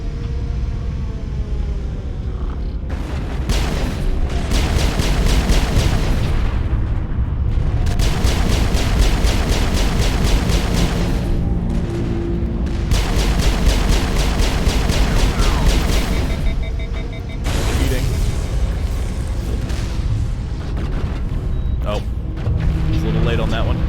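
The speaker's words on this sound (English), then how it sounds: "There's a bunch of Geth rocket turrets up here." Geth rocket turrets firing and exploding in Mass Effect, loud repeated blasts and roaring bursts across a long stretch of heavy, continuous combat noise with a voice talking over it.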